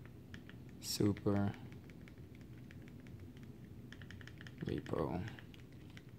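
Keys clatter on a computer keyboard in a quick, light run of taps, with a person speaking briefly in two short bursts over the typing.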